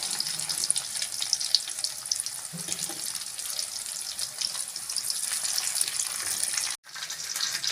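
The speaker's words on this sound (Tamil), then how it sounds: "குழம்பு கொதிச்சிச்சுங்க." Keerai paruppu curry, a spinach and lentil dish, boiling in a pot with a steady bubbling hiss and sizzle that runs on continuously throughout, close and moderately loud.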